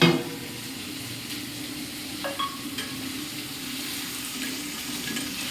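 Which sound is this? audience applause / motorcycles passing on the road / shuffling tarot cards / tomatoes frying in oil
tomatoes frying in oil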